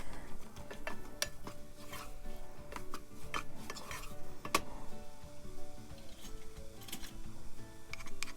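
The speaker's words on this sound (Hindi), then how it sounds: "चम्मच को हिलाते रहेंगे साथ साथ ताकि सूजी नीचे ना लगे" A spoon stirs semolina roasting in butter for sooji halwa, giving a continuous close scraping and clinking against the pan over a soft steady sizzle.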